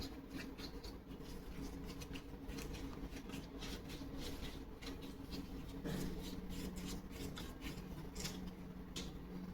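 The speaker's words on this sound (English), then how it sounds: "Make sure you apply the varnish evenly. Remove excess varnish by using brush." A brush spreads varnish (dope) over a balsa wood static model aircraft with a steady, soft rubbing and scratching made of quick repeated strokes. The sound is close and quiet, and nobody speaks.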